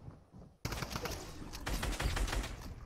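Rapid bursts of gunfire from a competitive online shooter match, loud and dense, starting abruptly after a quiet moment and continuing as overlapping shots throughout.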